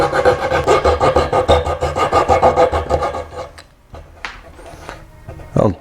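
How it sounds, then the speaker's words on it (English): A small Japanese turning saw cuts through wood for a desk's breadboard end, giving a steady, loud rhythm of rasping close-up strokes that stop partway through, followed by a few scattered knocks and scrapes. "So I got this little Japanese turning saw here."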